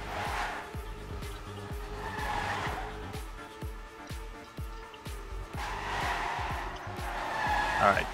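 Race car in a racing video game, with a steady buzzing engine tone, rhythmic pulsing and repeated tyre squeals as it takes the speed section, and a commentator talking over it.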